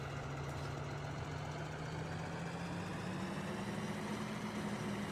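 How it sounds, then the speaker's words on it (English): In Farming Simulator 2013, a tractor engine idles with a low, steady rumble that holds even and unbroken throughout, with no voices over it. "let's get this tractor lined up here"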